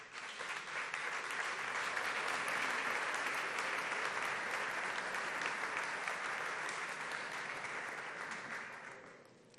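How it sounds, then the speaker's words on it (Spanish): Audience applause at an award ceremony, dense sustained clapping from a large crowd that holds steady for several seconds and then fades out. "Muchas gracias por esos aplausos que siempre vienen bien, claro que sí."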